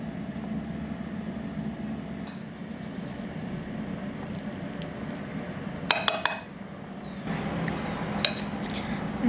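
A Greek salad with dressing and avocado is tossed in a bowl: soft, steady mixing under a constant background hum, broken by a few brief, bright utensil clinks.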